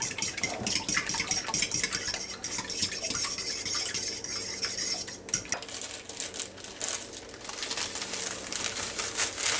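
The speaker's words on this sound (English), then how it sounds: "First off, I'm going to put the 3 eggs in here. Just get them stirred up just a little bit." Three eggs whisked in a bowl with a utensil for apple pie muffins, quick clinking scrapes against the dish repeating steadily and close by, no voices.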